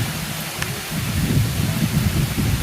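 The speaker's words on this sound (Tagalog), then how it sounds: "siguro lilipas lang tong ulan na to at magkakaroon ulit ng puhulaw din yung ulan" Rain pouring in the mountains, a steady close hiss with low rumbling underneath and a brief sharp knock early on, no voices.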